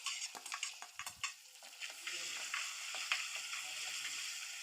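Crushed ginger, garlic and shallots fry in a pan for pepper rasam, a steady close sizzle broken by sharp scrapes and clinks of a spoon stirring against the metal.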